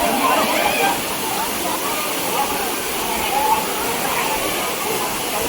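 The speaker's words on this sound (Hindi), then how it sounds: "जैसे कि आप देख पा रहे हैं बहुत हाइट से पानी आ रहा है" Tiger Falls at Chakrata, a waterfall about 50 metres high, roars as a dense, continuous rushing wash of water; a person talks over the steady noise.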